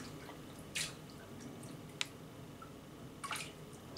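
Rice paper dipped and spun in water in a kitchen sink, giving soft quiet drips and wet squishes, three short splashes spread over a few seconds with no talk.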